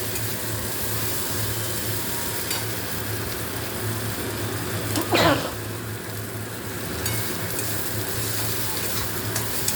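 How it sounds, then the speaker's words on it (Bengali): Spice paste for egg curry sizzling steadily in hot oil in a pan, a continuous crackling hiss with one brief scraping stir midway. "এটা খুব ভালো করে কষানো হয়ে গেছে। এবার আমি নাড়াচাড়া সুন্দর করে করেছি, হয়ে গেছে কষানো।"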